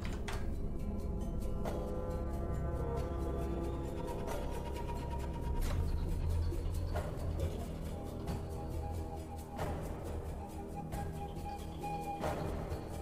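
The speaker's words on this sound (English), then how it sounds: "This is the sound of Denny's." Inside a Denny's restaurant, a low, steady hum and murmur fill the background, broken by scattered clinks and clatters of dishes and cutlery, some near and some farther off.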